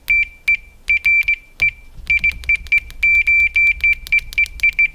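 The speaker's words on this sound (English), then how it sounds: "It's almost instantaneous when it beeps." A Fluke multimeter's continuity tester sounds a series of short, loud electronic beeps in quick, uneven succession, some clipped and some held slightly longer, close up with no talking.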